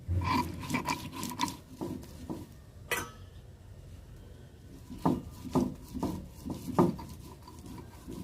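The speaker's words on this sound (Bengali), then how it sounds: "এবার চালগুলোকে জল থেকে ছেঁকে ভালো করে বেটে নিতে হবে।" Soaked rice is ground into batter by hand for a jaggery pitha, giving irregular rough scraping and rubbing strokes, with a few sharper knocks in between. The sounds are close and moderately loud, with no talk.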